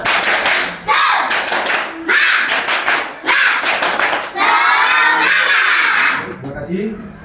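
Classroom students perform the rhythmic 'tepuk semangat' clap, bursts of clapping in patterned groups mixed with chanting voices, loud and close.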